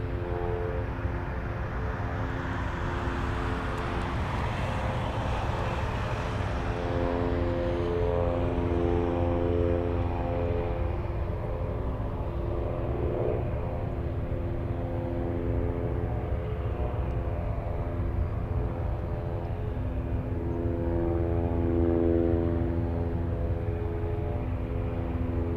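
A de Havilland Beaver propeller plane drones steadily at an Anchorage airport, a continuous, moderately distant engine hum with a rising-and-fading sweep early on, no talk over it.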